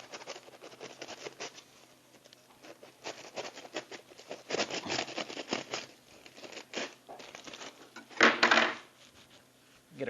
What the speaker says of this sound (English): we have to open this aluminum foil up